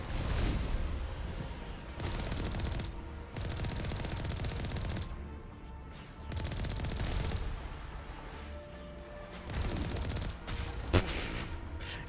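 Video game gunfire in several loud, dense bursts of rapid shots with brief quieter pauses between them, close and unaccompanied by talk.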